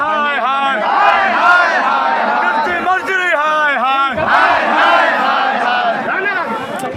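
Large protest crowd of farmers' advisory union members in Patna chanting and shouting slogans in loud, rhythmic unison, voices rising and falling in repeated waves throughout.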